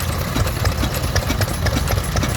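A large side-shaft Ruston Hornsby petrol stationary engine of about 5 horsepower runs steadily at an outdoor steam rally, making a close, continuous low thumping beat with clattering mechanical noise.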